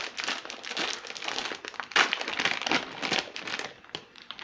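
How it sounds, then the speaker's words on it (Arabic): A plastic bag of dried white beans is torn open and handled, giving continuous close crinkling and crumpling in irregular bursts throughout, with no talk. "أفتح الكيس"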